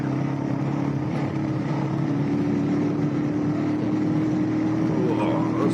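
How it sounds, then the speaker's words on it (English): A Lifan King 125 motorcycle engine drones steadily at mid and low revs while riding, a continuous buzzing hum under wind noise, fairly close and without pauses. "I love the noise this bike makes. These sorts of speeds of mid and low revs for it."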